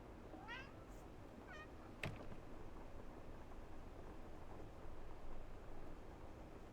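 A cat in the video game Drug Dealer Simulator meows a few times in quick succession early on, fairly clear over a steady low background hum, followed by a brief sharp click and then continuous ambient noise.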